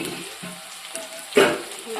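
Soft sizzle of onions frying in a pan for a chicken dish, with a few scraping stirs and one sharper clatter partway through; faint and close.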